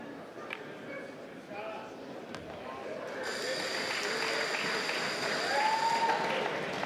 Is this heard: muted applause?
yes